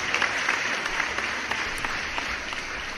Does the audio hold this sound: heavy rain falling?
no